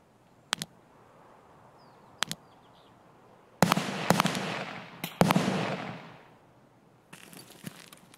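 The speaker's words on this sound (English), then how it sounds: "Who's he shooting at?" Gunfire in Escape From Tarkov: single sharp shots at about 0.5 and 2.2 seconds, then a louder burst of several close rounds from 3.6 to 5.5 seconds with a trailing echo, and a quieter rattle of shots near the end.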